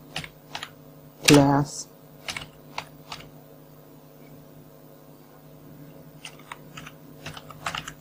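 A computer keyboard clicks in scattered, irregular bursts of close keystrokes as code is typed, with a brief spoken word partway through.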